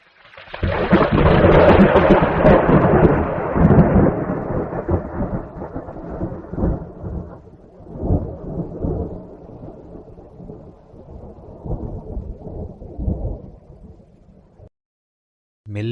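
A loud, long rumble of thunder rolls and slowly fades, followed by steady rain pattering for several seconds before a brief silence.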